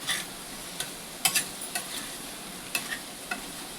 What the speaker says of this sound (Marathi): आता छान अशी मिक्स करायची आहे भाजी.